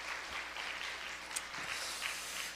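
A church congregation applauds, a soft continuous patter of clapping heard from a distance in a reverberant hall, steady for the whole stretch without any voices.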